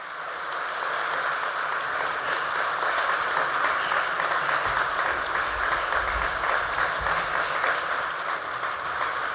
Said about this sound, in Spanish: Inmediatamente el aplauso de los presentes